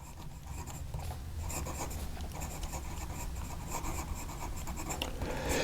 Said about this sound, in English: And hopefully you can hear that, how smooth the nib is.